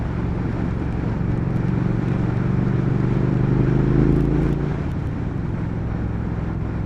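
A 2019 Triumph Speed Twin motorcycle engine pulls hard on a ride, a loud, close, throaty drone rising in pitch as it accelerates, then easing off near the end, with wind rush throughout.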